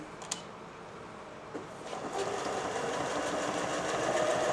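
Janome 760 sewing machine stitching in reverse, a steady close mechanical whir that starts after a couple of clicks and runs continuously, slightly building in loudness.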